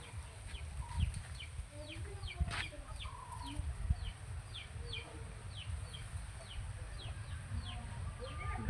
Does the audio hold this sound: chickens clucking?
yes